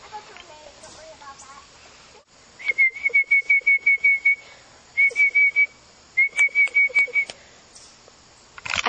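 A person whistles short, repeated high notes in quick rhythmic bursts, three runs separated by brief pauses, close and clear in an otherwise quiet indoor space, with a puppy nearby.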